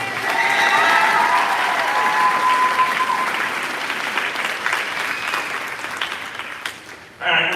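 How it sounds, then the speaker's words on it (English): A concert audience applauds student leaders and color guard captains, sustained dense clapping with some cheers and whistles, loud and close, fading before a sudden sharp noise at the end. "One more huge round of applause for our outstanding student leadership."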